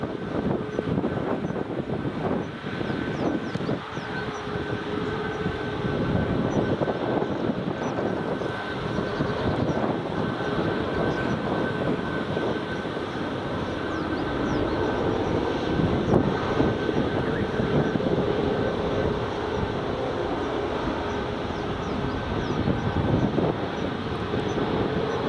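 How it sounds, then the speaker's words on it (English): A WestJet Boeing 737 MAX taxis at Edinburgh Airport, its steady engine roar and whine holding at a loud, constant level throughout, heard from nearby outdoors. "WestJet 737 MAX just taxiing now."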